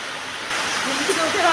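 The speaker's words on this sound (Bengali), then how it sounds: "আমার নিশ্চয়ই আওয়াজটা শুনতে পাচ্ছ, সকাল থেকে বৃষ্টি হচ্ছে।" Heavy rain falling outside, a dense, steady hiss that swells slightly after the first half-second and continues unbroken.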